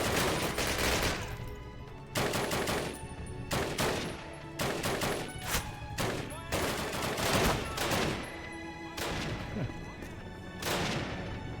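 Gunfire from the 2003 Call of Duty game, rapid bursts of automatic weapons and sharp single shots with brief gaps, loud and close throughout, with a chaotic battlefield feel.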